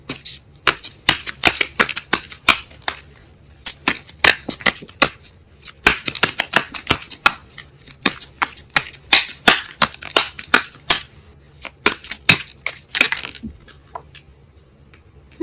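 Tarot cards being shuffled by hand, a long run of quick, close, crisp riffling and flicking bursts in an irregular rhythm, with no talking.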